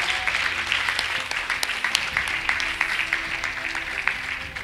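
Worshippers in a church clap loudly together in celebration after a testimony, a thick, continuous burst of applause with sharp individual claps standing out throughout and no speech on top.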